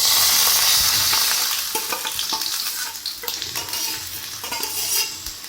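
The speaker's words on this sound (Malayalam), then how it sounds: "ഇനി അതിലോട്ട് നമുക്ക് ചൂടായ ശേഷം തേങ്ങയും അതുപോലെ തന്നെ ജീരകവും വെളുത്തുള്ളിയും കറിവേപ്പിലയും കൂടെ ചേർത്ത് കൊടുക്കാം" Coconut, cumin, garlic and curry leaves frying in a hot pan for a chicken curry, a steady bright sizzle with repeated scraping stirs of a spoon against the pan.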